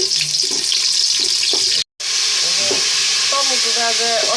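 Rice, bay leaves, garam masala and tomato sizzle in hot oil for chicken biryani, with steady frying crackle and stirring scrapes close by and a brief silent gap partway through.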